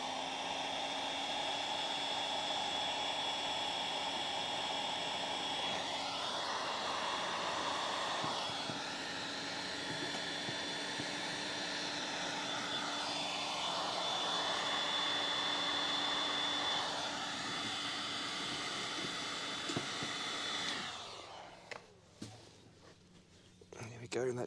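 A heat gun blows hot air over a section of pond hose with a steady close whooshing hiss whose pitch wavers slightly as it moves, then cuts off near the end, leaving faint handling sounds.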